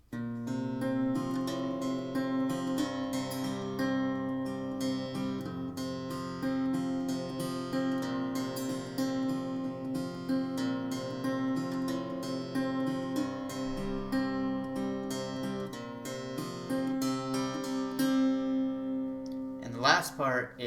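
Acoustic guitar playing the intro riff of a country song, a steady strummed and picked pattern with ringing chords throughout, clear and close with no talking.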